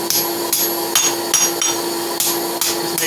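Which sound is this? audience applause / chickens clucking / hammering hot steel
hammering hot steel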